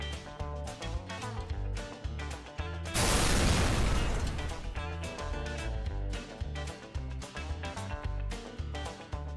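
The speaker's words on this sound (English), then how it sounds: "I turn on a loud sound of explosion" A loud, noisy blast of a recorded explosion from a portable loudspeaker lasting about a second breaks into rhythmic music, which keeps playing before and after.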